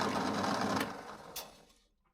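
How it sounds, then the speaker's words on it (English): A 92 mm hole saw bores a round plate out of a wooden board about 1 cm thick, giving a loud steady whirring grind that abruptly drops off and fades to silence near the end. "I take the biggest hole saw I have and cut out a round plate from a board that is about 1 centimeter thick"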